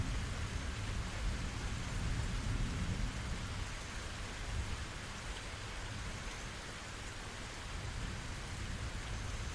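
Steady heavy rain pours without a break, with a low rumble of thunder running underneath, a dense, even wash of storm noise and no voices.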